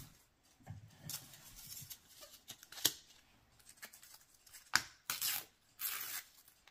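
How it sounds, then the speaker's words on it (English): Paper is torn by hand to remove excess from a junk journal belly band, heard as several short, crisp ripping bursts separated by quiet pauses, fairly close and alone without talk. "I'm going to try to rip off the excess."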